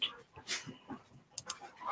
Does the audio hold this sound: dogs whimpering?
yes